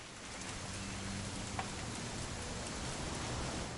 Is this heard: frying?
no